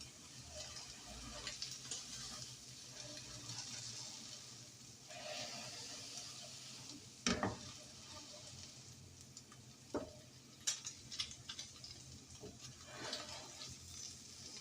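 Grass-finished hamburger beef sizzles steadily in a pan, a soft continuous frying hiss with occasional scraping and stirring clatter, fairly quiet and close.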